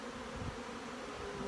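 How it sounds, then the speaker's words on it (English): Honey bees buzz steadily in flight around a hive at a supplement feeder, a dense even hum of many insects with no voices. "Just every one of these bees out stretching their wings."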